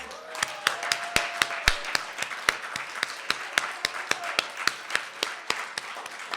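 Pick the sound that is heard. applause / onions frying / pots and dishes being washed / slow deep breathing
applause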